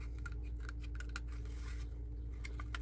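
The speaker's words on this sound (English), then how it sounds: "So I'm going to gently cut to keep what I can together here." Scissors fussy-cutting paper around printed flowers, a steady run of small, close snips and crisp scraping cuts over a constant low background hum, with no talking.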